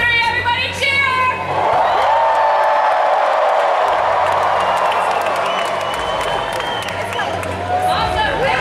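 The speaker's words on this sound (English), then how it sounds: "1, 2, 3, everybody cheer!" A packed Hall H crowd at San Diego Comic Con 2019 bursts into loud cheering, whooping and clapping for a Marvel Phase 4 panel, a sustained roar from a huge audience with shouts rising above it.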